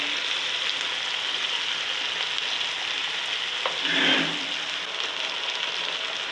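Whole spices, bay leaf, black cardamom, star anise and cumin frying in hot oil, a steady hiss with a brief stirring swell midway, close and unbroken by talk.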